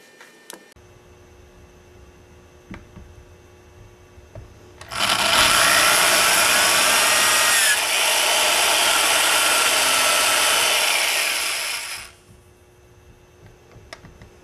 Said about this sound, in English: I'm going to go ahead and drill the pilot holes